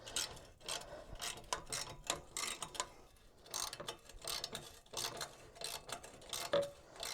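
A ratchet wrench works a badly rusted bolt on a Yamaha FJR1300, giving repeated bursts of quick metallic clicking in uneven strokes, close and fairly quiet.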